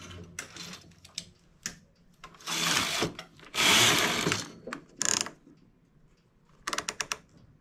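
A knitting machine carriage runs across the needle bed while making a child's wrap-front jacket, heard as close, loud rattling sweeps in a few separate passes, with clicking and knocking between them.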